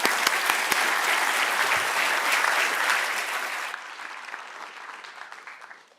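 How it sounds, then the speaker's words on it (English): An audience at a future-themed forum in Dubai applauds loudly with dense clapping that holds steady for several seconds, then thins and fades out toward the end. "let's give them all a round of applause"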